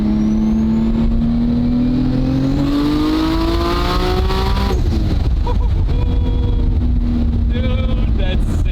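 A 1200 hp Toyota Supra with a 3.2-litre Dart 2JZ engine revs hard and pulls through a rising boost sweep with a wastegate release, loud and close inside the car, with wind buffeting and people talking over it.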